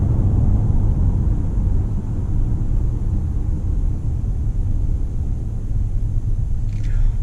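A 2019 RAM 1500 Big Horn pickup cruises at 55 mph, heard from the cabin as a steady, loud low rumble of road and engine noise with a faint hiss above it.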